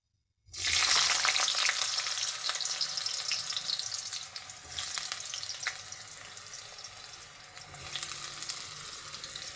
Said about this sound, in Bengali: ফোড়ন ভাজা হয়ে গেছে প্রথমেই আমি দিয়ে দেব আলু